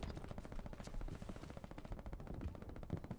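Gunfire in the WW2 shooter game Hell Let Loose comes as dense, rapid machine-gun bursts, loud and continuous for a few seconds.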